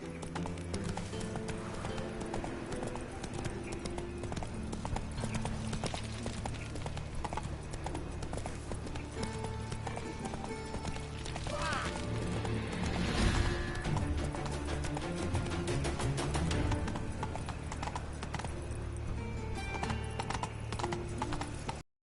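Roach, a horse in The Witcher 3, gallops with rapid, rhythmic hoofbeats clip-clopping close and loud under game music, swelling midway with a brief whinny.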